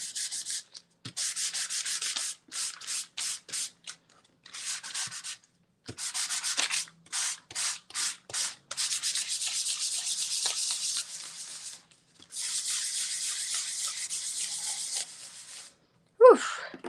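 Oil pastel on a mixed media collage is sanded by hand in bursts of rough, hissing strokes, some quick and rhythmic and some long, close and moderately quiet. A sharp breath comes near the end.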